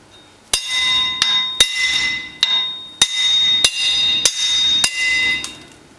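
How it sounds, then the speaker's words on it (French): A hammer strikes a tool to drive out the seal of a rear wheel bearing on a Suzuki Jimny, giving eight sharp metallic blows spaced about half a second apart, loud and close with ringing between hits. "Et en même temps taper avec le marteau."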